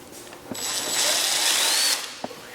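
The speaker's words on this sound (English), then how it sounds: "to take off the tail section, it's a T25 Torx. There's 3 Torx head screws on here." A power driver backs out T25 Torx screws from the tail section of a BMW S1000RR motorcycle, giving one steady high-pitched whir of about a second and a half, bracketed by small clicks and taps.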